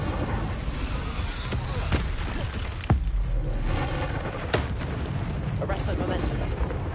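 Incendio fire spell in Hogwarts Legacy on PS5 during combat, a dense roaring whoosh with several sharp cracks and booms over continuous rumbling game noise, with a voice speaking over it.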